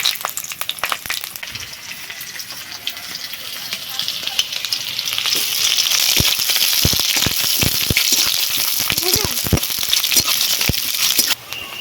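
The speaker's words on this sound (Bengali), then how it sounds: "তেল গরম হয়ে গেছে এবার দিয়ে দিচ্ছি পাঁচ ফোড়ন তেজপাতা কাঁচা লঙ্কা" Panch phoron spices, bay leaf and green chilli hit hot mustard oil in a wok, giving a steady, close sizzle that swells louder halfway through. Sharp crackles and pops come through as the spices splutter. Nobody speaks.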